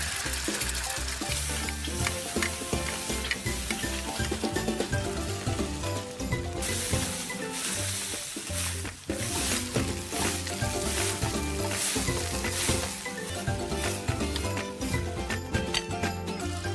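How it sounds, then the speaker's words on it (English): Fried rice sizzling and frying in a pan, a dense, steady crackle with constant stirring and scraping that carries on evenly throughout. "Sati tried making fried rice"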